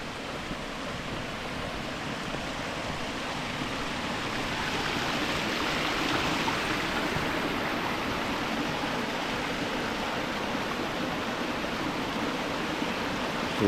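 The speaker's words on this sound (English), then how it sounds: "Coming up on another mini waterfall." Water rushes steadily over rocks in a creek, a constant broadband flow that swells slightly midway and continues without any voices.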